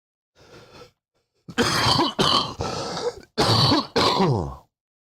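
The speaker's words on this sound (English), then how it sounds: "I just coughed so loud in the microphone" A person coughing hard and loud right into a microphone, a short first burst followed by a run of four heavy, rasping coughs up close.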